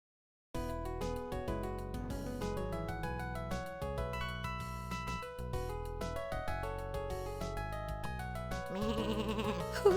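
A sheep bleats in The Legend of Kyrandia: Book Two while being milked, repeated wavering bleats layered over steady game music, growing louder near the end.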